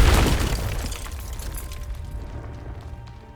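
Confringo fire spell cast in Hogwarts Legacy, a sharp fiery blast that bursts loudly at the start and then crackles and fades away over a few seconds.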